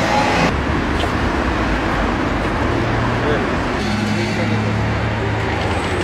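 Busy street traffic on Vazha-Pshavela Avenue, with many cars halted at a zebra crossing; a steady low rumble of engines and road noise runs throughout, close and continuous, while people talk over it.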